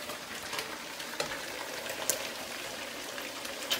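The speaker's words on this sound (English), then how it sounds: "So, I'm going to add in my onions." Onions tipped into a pot of meat frying at the ten-minute mark, giving a steady, fairly quiet sizzle with faint crackles and a few sharp pops throughout, no voices.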